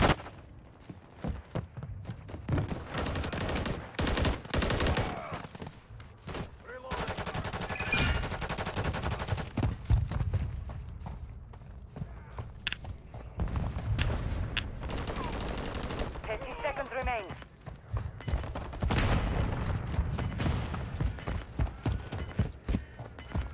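Gunfire in the video game Call of Duty: Modern Warfare III, with rapid automatic bursts and single sharp shots in irregular clusters, near and loud, mixed with other game effects and occasional voices.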